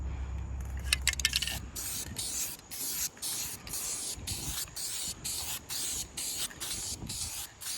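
Spray paint is applied to a Honda car in a steady series of short, close hissing bursts. The can rattles briefly near the start.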